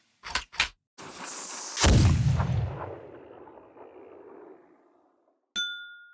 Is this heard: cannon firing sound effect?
yes